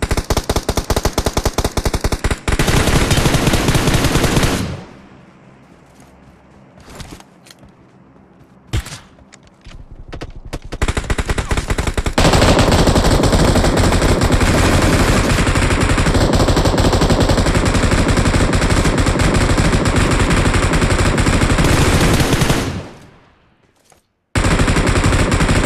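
Loud, dense automatic gunfire from the mobile battle-royale game PUBG Mobile rattles in long sustained bursts, with a quieter lull of scattered shots in the middle before heavy firing resumes and cuts off near the end.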